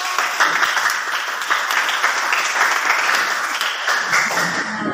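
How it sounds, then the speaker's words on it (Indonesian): A classroom full of people clapping steadily after a group presentation, dense and sustained applause with no voices, fading slightly toward the end. "Baik, tepuk tangan buat kelompok."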